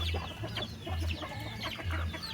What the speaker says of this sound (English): Yeah, Broody again. She just let go of these chicks here.